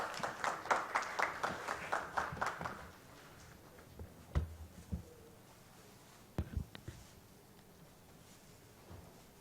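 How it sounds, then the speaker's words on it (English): Brief applause at a banking and IT security summit's inauguration: a short burst of rhythmic clapping for about three seconds, then it dies away into quiet room noise with a few scattered knocks and rustles. "A round of applause for Mr. Somnesh Joshi, ADG of UIDAI,"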